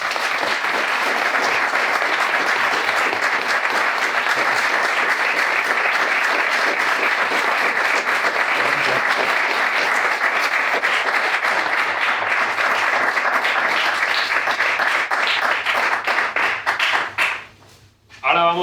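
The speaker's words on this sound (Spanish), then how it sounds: "Y os pido un aplauso para él." Long, continuous audience applause with crisp individual claps, holding steady for most of the stretch before dropping off abruptly near the end.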